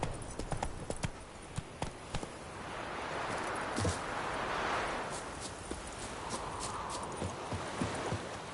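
Hooves of Roach, a horse in The Witcher 3: Wild Hunt, clip-clop in a steady walking rhythm, close and moderately loud over a soft rustling outdoor ambience.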